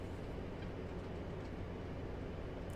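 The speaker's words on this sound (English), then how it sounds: "Oh, look, a train. Is it a freight train?" A steady low rumble of a video game freight train rolling along, dense and continuous, with no voices over it.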